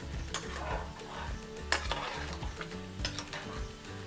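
Cream being stirred into a simmering mixed vegetable gravy curry in a pan on the stove, with steady scraping spoon strokes, soft sizzling and occasional clinks of utensil against the pot, close and alone.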